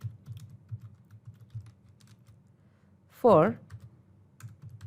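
Computer keyboard typing, a quick run of soft, close keystroke clicks spread through the clip, broken once by a short burst of speech.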